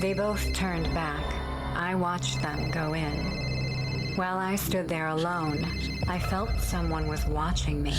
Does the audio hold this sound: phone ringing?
yes